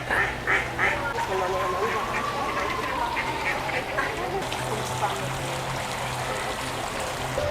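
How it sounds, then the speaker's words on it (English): Ducks quack repeatedly in the Alcazar gardens in Seville, loud and close, with a steady wash of trickling water beneath and a person talking over them. "These ducks are very vocal,"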